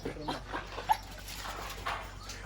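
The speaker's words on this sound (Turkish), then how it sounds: "Burada çoban köpeklerimiz var." Young shepherd dog puppies on a farm whimper and yip in short, high, scattered cries, fairly close, with soft background noise and brief human voice sounds mixed in.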